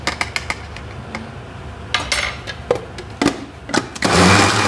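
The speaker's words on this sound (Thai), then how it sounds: "เครื่องปั่นของเรามันเล็กอะนะคะบดให้เขาละเอียด" A small electric blender grinding meat for Thai chicken sausage whirs in short bursts, stopping and starting with clattering pulses, then runs more steadily at the end.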